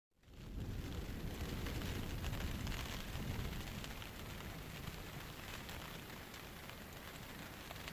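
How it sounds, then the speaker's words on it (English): Rain falls on a tent during a camp inside a thick, low cloud, making a steady, dense patter and hiss that continues without a break throughout, with no voices. "You can probably hear the rain on the tent."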